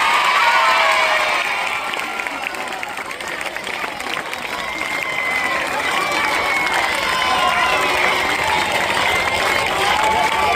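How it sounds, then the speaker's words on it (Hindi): At a school prize-distribution ceremony, an audience claps and cheers loudly and continuously, with children's shouts and crowd voices blending into a dense, sustained roar. "जोरदार तालियां बजनी चाहिए"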